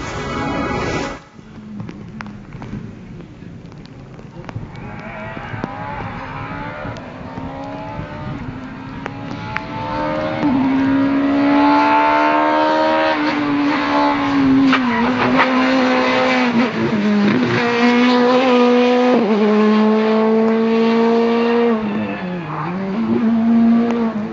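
Several race cars roar past in a three-car simulcam sequence, engines rising from a distant rumble to loud, sustained revving with shifting pitch and tire noise, continuous for the whole stretch without speech.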